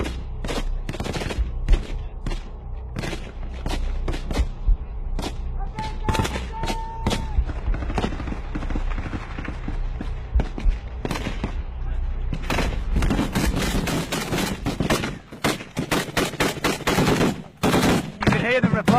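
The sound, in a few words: gunfire exchange near frontline farmhouse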